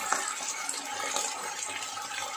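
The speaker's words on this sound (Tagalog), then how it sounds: "Lagyan natin ng kunting tubig." Water pours steadily into a cooking pan holding sautéed onion and sardines for sotanghon, a continuous close splashing gush that runs unbroken.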